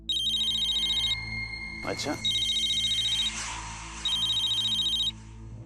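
A telephone rings in repeated electronic bursts inside a factory at night, three ring trains with a short pause between, and a voice briefly speaks over it.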